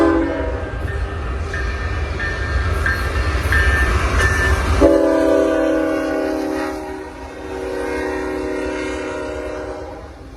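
CN M369, a short mixed freight led by six locomotives on the Montreal to Toronto run, sounds its horn in several loud blasts over heavy rumbling, then rolls past with a lower sustained tone and clatter.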